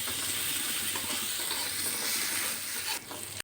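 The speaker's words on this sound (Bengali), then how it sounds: "আমটা খুব ভালো করে ভেজে নিলাম।" Mango pieces fry in hot oil with a steady, close sizzle and bubbling hiss, stirred now and then, ending in a brief clatter and a sudden cut.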